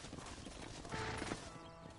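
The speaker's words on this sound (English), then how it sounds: "Hit your horse and wait for me by the stable." Horse hooves clip-clop at a steady walking pace in the Western video game Red Dead Redemption, fairly close and moderately loud, with a brief louder burst near the middle and no talk.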